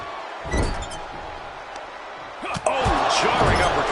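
Wrestling video game crowd roaring and cheering in an arena, a steady wash of noise that swells louder partway through, with sharp impact slams from the ring cutting through.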